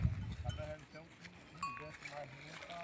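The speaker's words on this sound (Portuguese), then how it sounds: "Essa ovelha é mansinha, gente." Sheep on a farm near Petrolina give faint, scattered bleats among rural background noise, with people talking close by and a clank near the start.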